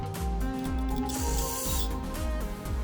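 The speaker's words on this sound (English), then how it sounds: "take some brake clean and spray inside the nozzle" Brake cleaner hisses in short spray bursts into a waste oil burner nozzle, against a steady mechanical hum with rhythmic thumping, close by.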